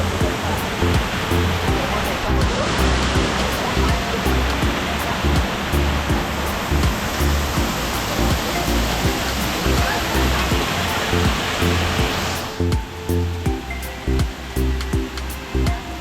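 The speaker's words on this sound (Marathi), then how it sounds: "आणि ह्यो हा तळवड्यातलो नावनकोंड धबधबो बघ कसो मस्त वाटतं" Navankond waterfall at Talavade roars steadily, a loud, dense rush of falling water that fills the whole stretch and thins slightly near the end, with no clear speech over it.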